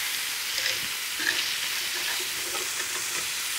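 Marinated Thai chicken sizzles and chars on an outdoor barbecue grill, a steady close frying hiss with faint crackles and pops throughout.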